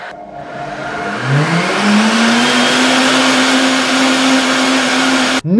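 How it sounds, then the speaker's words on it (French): A blender runs at maximum speed puréeing a pea soup with crème fraîche, its motor whining up to a steady high pitch and holding there loudly for several seconds before cutting off abruptly at the end. "je viens terminer de mixer l'ensemble, cette fois-ci en mode manuel, en tournant tout simplement la molette au maximum"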